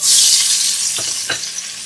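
Onion hits hot oil in a pressure cooker for mutton biryani, a loud close sizzle that swells at once and then settles into a steady hiss with a couple of stirring scrapes.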